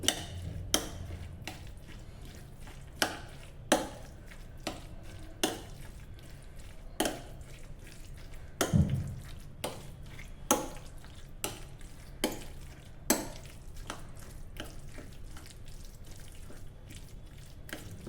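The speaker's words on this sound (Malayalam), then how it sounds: "ഇത് നന്നായി മിക്സ് ചെയ്യുക" Mashed avocado with two small green chillies is stirred in a bowl, giving soft, wet, evenly spaced squelching strokes roughly once a second, close and fairly quiet, with no talking.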